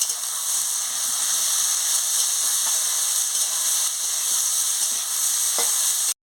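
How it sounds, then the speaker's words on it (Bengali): Potato and eggplant frying with turmeric and salt in a pan, a steady dense sizzle running unbroken for about six seconds with a few faint clicks of stirring, then cutting off abruptly. "হলুদের গুঁড়ো দিয়ে দিচ্ছি, পরিমাণ মতন নুন দিয়ে দিচ্ছি, দিয়ে ভালো করে ভেজে নিচ্ছি।"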